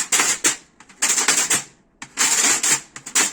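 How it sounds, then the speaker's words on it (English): Sharp, buzzy rattling hits in quick clusters, a snare drum's wires sizzling with each strike, close and fairly loud with brief gaps between bursts. "it gives it a rattly, buzzy sort of sound"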